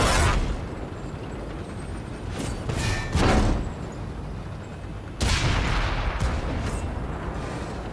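Tank cannon shots in a tank combat video game: several heavy booming blasts, one near the start, a pair around the middle and a strong one later, each with a rumbling tail over continuous battle noise.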